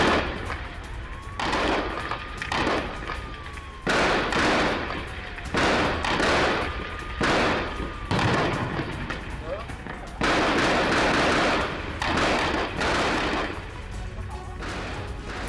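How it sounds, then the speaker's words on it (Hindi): Repeated bursts of gunfire in a two-sided firefight between Israel and Hamas in Gaza crack out in uneven volleys, some rapid and overlapping, with a voice talking over them throughout. "इजराइल हमास के बीच गन फाइट चल रही है। दोनों तरफ से ताबड़तोड़ फायरिंग की जा रही है।"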